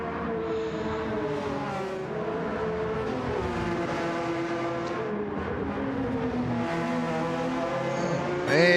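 Race cars, including a Toyota, run in a classic racing video game on the Deep Forest track, with steady engines droning and shifting pitch up and down, one car revving louder near the end.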